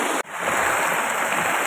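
Heavy rain pours down on a campsite as a steady, dense hiss of downpour that fills the whole stretch, with a brief dip near the start and no voices.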